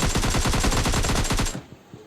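Rapid burst of automatic AKM rifle fire in the PUBG Lite video game, about a dozen loud, close shots in quick succession that stop abruptly and leave a brief fading tail.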